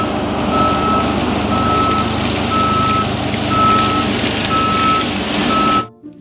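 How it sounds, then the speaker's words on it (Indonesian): A toy road roller truck reverses with a steady rumble under a repeating electronic backup beep, sounding regularly and loudly throughout before cutting off abruptly at the end. "Lihat, ada mobil salender besar, teman-teman."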